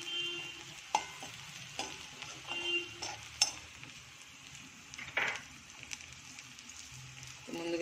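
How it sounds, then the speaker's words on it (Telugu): Sizzling oil as an ingredient fries until light brown for batani chaat, with scattered soft clicks and scrapes of stirring over a faint, steady hiss at low volume. "ఈ ఆయిల్లో బాగా లైట్ బ్రౌనిష్ వచ్చినంత వరకు ఫ్రై చేసుకోవాలి."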